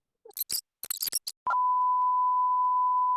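A spin-the-wheel game sounder gives a single steady, loud electronic beep that holds for nearly two seconds after a few short bursts of speech at an art toy convention.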